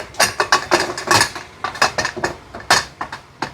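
A pressure cooker lid is fitted and closed, producing a close run of quick metallic clicks, clanks and rattles in an irregular rhythm, with no speech.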